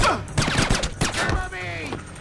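Rapid bursts of gunfire crackle in Splinter Cell: Chaos Theory, mixed with shouting voices in a busy combat exchange.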